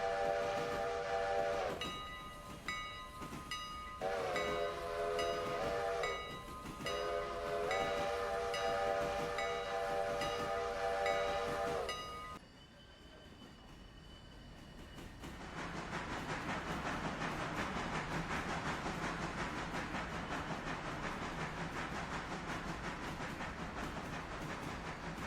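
A train in the video game Railroader blows a long horn with several blasts, then rumbles along steadily as it starts climbing a mountain grade, loud and continuous with no talk.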